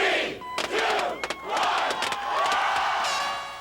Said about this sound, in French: la foule a éclaté de joie